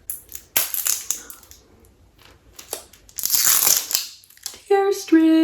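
Plastic packaging for an Easter plush toy being torn open by hand along its tear strip, with loud close crinkling and ripping in uneven bursts. Two short voiced sounds follow at the end.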